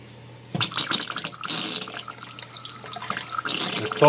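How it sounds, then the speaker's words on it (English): Water starts running suddenly and keeps pouring and splashing as a cabin's water heater fills, steady with gurgling variations over a faint low hum. "Water heater's filling up."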